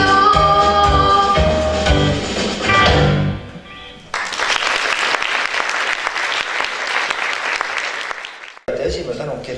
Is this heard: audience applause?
yes